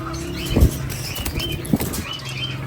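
A breeder pair of pet birds flies close by, giving two short bursts of flapping wings about a second apart over a quiet background hum.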